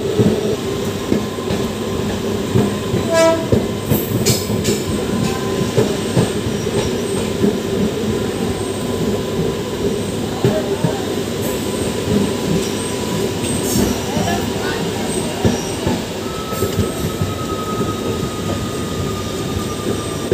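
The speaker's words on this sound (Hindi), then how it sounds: "और दोस्तों देखिए DMU ट्रेन जा रही है।" A DMU train rumbles along the Jaunpur to Ghazipur City line near Aukuspur station, a loud, continuous roar of wheels on rail with faint squealing and clicking, heard from close by.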